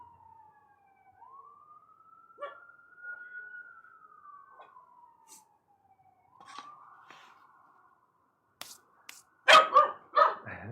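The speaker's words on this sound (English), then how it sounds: "She's communicating with our neighbor's dog. They just bark at each other sometimes." Dogs bark back and forth between neighbouring homes; a long, wavering howl-like tone drifts through first, then a cluster of loud, close barks bursts out near the end.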